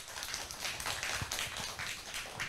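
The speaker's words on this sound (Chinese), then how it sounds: "都俾啲掌声现场自己朋友好嘛" An audience at a history and culture lecture in Hong Kong breaks into applause, a dense wash of many hands clapping steadily for a couple of seconds in a moderately sized room.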